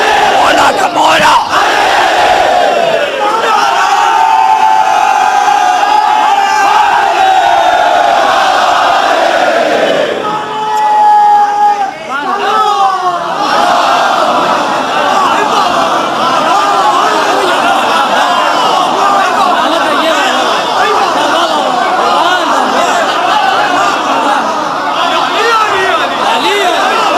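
A large congregation at a Shia majlis shouts slogans in loud, surging collective bursts, a speaker's amplified voice leading the calls between waves of massed response.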